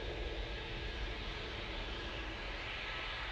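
A Boeing Dreamliner airliner at Manchester Airport roars with a steady, broad engine rumble, heard from a distance as an even, sustained noise with no voices.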